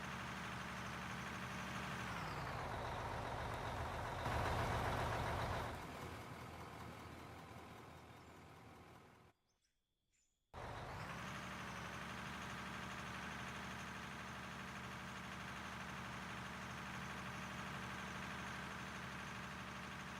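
A mining truck engine in the game Out of Ore idles and revs: it rises, then drops back to a steady hum, cuts out briefly to silence, and restarts to a constant idle.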